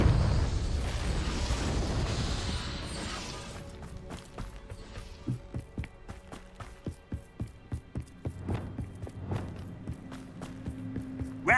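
A Confringo blasting spell explodes in Hogwarts Legacy with a loud broad burst that rumbles and fades over a few seconds, followed by a run of quick footsteps and scattered clatter.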